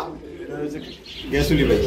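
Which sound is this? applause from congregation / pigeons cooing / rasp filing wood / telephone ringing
pigeons cooing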